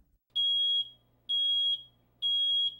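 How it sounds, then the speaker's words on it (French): A smoke alarm sounding during a test gives three loud, shrill electronic beeps, each about half a second long, evenly spaced with short silent gaps, close to the listener in a quiet home. "Si vous entendez cette alarme sonore, cela indique la présence de fumée et la possibilité d'un incendie"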